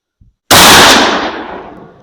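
A single loud 12 gauge shotgun blast firing 3-inch #4 and #0000 buckshot at a steel plate on an outdoor range, a sharp close report with a ringing decay trailing off over a second and a half.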